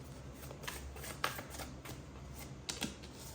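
Tarot cards are shuffled by hand during a reading, a close, soft riffling patter broken by a couple of sharper snaps of the deck, with no one speaking.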